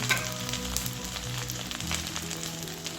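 Garlic and ginger sizzle steadily in hot oil in a pan for an Assamese paneer and bell pepper dish, a continuous close frying hiss with faint stirring and no voices.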